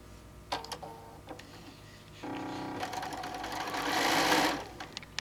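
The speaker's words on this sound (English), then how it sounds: "remember, we're going to be working with our 1/4 inch foot" A sewing machine fitted with a 1/4 inch foot stitches quilt pieces together, a few short taps giving way to a steady, close whir that builds in speed and then stops.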